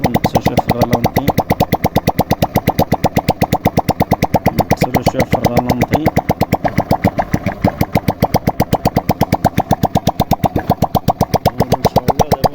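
A car engine with a fault of smoke returning into the engine idles steadily with a fast, even mechanical chugging, close and loud, running alone with no voices.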